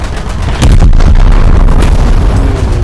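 A ship blowing up in the naval combat video game War Thunder, with a German Leopard-class destroyer in the fight: a loud, deep boom bursts in after a brief lull and rolls on as a sustained, rumbling roar.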